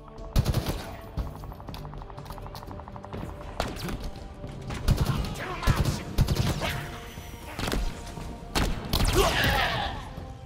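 Gunfire in the Halo Infinite first-person shooter, with repeated sharp shots and bursts scattered across about ten seconds, mixed with crashes, thuds and game effects at moderate loudness.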